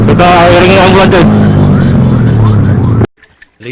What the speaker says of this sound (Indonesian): Kita iringi ambulan coy.